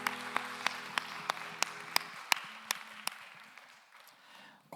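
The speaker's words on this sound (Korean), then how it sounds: "우리 박수로 서로를 응원합시다." A church congregation claps together during a Sunday young-adults worship service, sharp separate claps in a steady rhythm that thin out and fade toward the end, with no voices over them.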